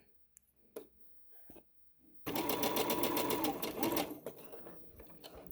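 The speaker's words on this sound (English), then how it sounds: "then I'm just going to back stitch, and then lift my needle up and clip" A sewing machine runs in one steady burst of rapid stitching, stitching the elastic casing on pajama shorts, preceded by a few quiet clicks and handling noises before the motor starts.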